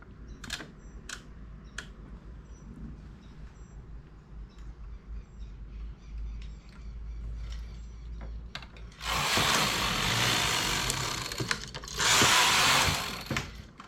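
A knitting machine knits rows of a baby's trousers. Light mechanical clicks and ticks are followed by two loud, rushing swishes as the carriage slides across the needle bed, close-up and with no voices.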